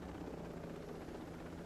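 A helicopter in the military shooter game Ghost Recon Breakpoint drones with a low, continuous rotor rumble, faint and steady with no talk over it.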